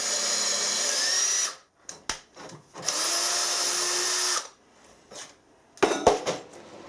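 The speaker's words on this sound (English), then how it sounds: "I'm going to run a tap through them holes." A power tool whirs as it drives a tap through bolt holes during a repair, in two sustained high-pitched runs with metallic clinks and knocks between and after them.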